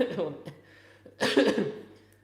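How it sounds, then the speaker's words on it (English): A person coughs a couple of times close by, with a short throat-clearing burst in between and breathy pauses. "I keep coughing"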